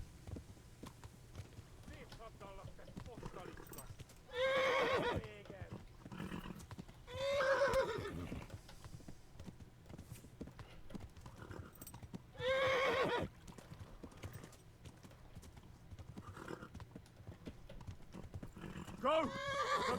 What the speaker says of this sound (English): Come on, horse, we need to go faster.